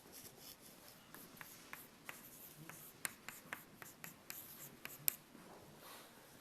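A pen scratches quietly across paper while equilibrium equations are written out by hand, producing a run of soft strokes and small ticks at an irregular pace in a quiet room.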